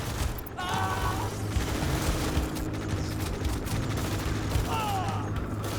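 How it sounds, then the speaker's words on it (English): Artillery barrages and gunfire rumble continuously in the Tom Clancy's EndWar video game, dense booms and mechanical battle noise layered with brief radio-style voice chatter. "Artillery fire on our position."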